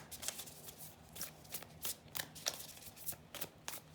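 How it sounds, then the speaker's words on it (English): Wild Offering oracle cards being shuffled by hand, a soft, close series of riffling flicks and slaps in an irregular rhythm, quiet and without any talk. "So I'm going to pull one of these Wild Offering cards."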